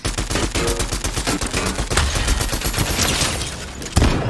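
Rapid gunfire crackles through a Fortnite match in dense, overlapping bursts of shots that barely pause. It is loud and close throughout, with a sharp extra shot near the end.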